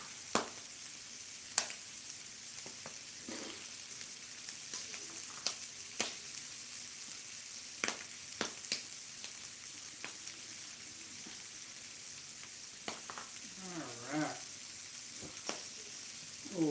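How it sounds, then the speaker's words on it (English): Popcorn popping in a hot pan while shrimp tacos are made, scattered sharp little pops over a soft steady sizzle, quiet and close with no talking. "the popcorn's starting to pop"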